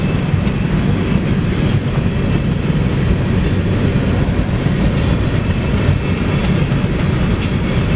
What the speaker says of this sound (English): Now there's another train coming eastbound too.